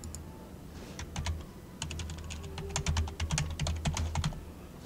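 Rapid keystrokes on a computer keyboard, clusters of sharp clicks with short pauses, the last key likely enter, while a phone number and text message are entered on a Windows 10 PC linked to a Samsung Galaxy phone; steady low hum beneath, no talk.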